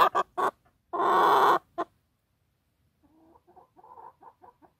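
Backyard hens near a vegetable garden, a few loud close clucks and a squawk, then softer, quicker clucking at a distance.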